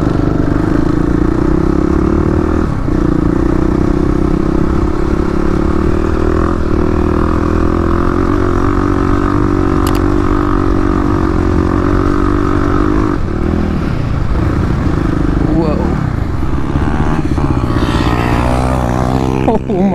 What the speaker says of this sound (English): First time on the sand in the 35 horsepower KLX.